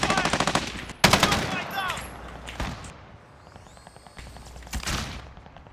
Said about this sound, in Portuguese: eu atirei pra caralho no cara, não morreu